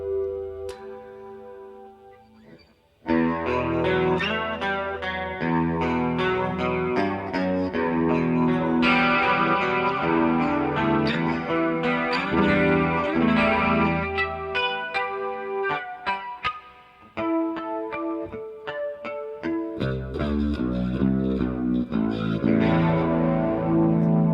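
An electric guitar on its bridge pickup plays a long passage with a brighter, edgier tone, chords and single notes ringing densely, with a brief pause partway through.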